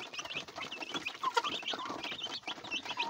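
One-day-old broiler chicks chirp in a dense, continuous chorus of high, overlapping peeps close by, with a few louder calls standing out.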